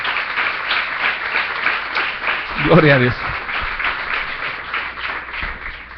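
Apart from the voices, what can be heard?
congregation applauding in church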